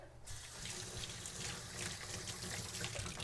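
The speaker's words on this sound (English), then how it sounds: "Let me just rinse my hands real quickly." Hands are rinsed under a running kitchen tap: a steady, close wash of water splashing into the sink that continues for the whole stretch, with no talking.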